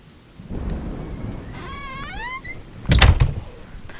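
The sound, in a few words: rain and thunderstorm in horror video game Home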